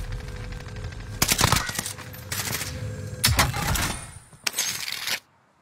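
Bursts of rapid gunfire from a PS5 video game crackle in several clusters, loud and close, with short gaps between volleys and no talking.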